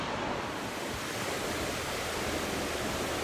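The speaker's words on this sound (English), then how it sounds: "I love the sounds of waves" Ocean waves wash steadily onto a beach at Myrtle Beach on a spring morning, a continuous broad surf roar with wind across the microphone and no talk.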